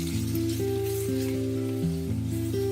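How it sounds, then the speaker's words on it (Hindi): Peas, carrots and capsicum sizzle steadily while frying in a pan for chicken chow mein, a constant close crackle heard under background music. "मटर और गाजरों को हमने मिक्स कर लिया और 1-2 मिनट शिमला मिर्च के साथ अच्छे से भून लिया।"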